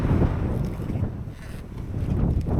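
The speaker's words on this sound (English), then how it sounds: "it must have been very, very windy up in this field." Strong gusting wind in an open field buffets the microphone with a low, rumbling roar that swells and dips, no other sounds standing out.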